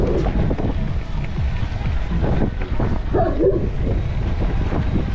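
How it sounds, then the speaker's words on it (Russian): Wind gusts across the microphone outdoors on the Crimean coast, a steady loud roaring rumble that fills the whole stretch, with a faint dog bark half buried in it. "Ветер поднимается."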